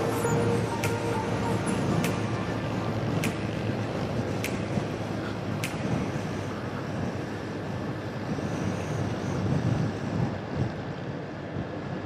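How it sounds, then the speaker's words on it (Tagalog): Strong, cold wind blowing on a steep bypass road in Gumaca, a loud continuous roar buffeting the microphone for the whole stretch, with a few faint ticks and no talk. "Lakas ng hangin dito. Lamig."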